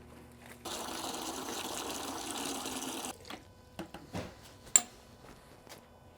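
Water gushes steadily into a 240 gallon planted aquarium for a couple of seconds, a loud continuous pour that then cuts off, leaving faint drips and small splashes.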